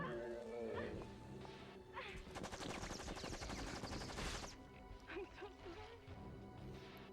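Rapid gunfire from shooting a boss in the video game Lifeline, a dense loud burst of repeated shots and impacts lasting a few seconds, then scattered hits under game sound, with a voice talking over it.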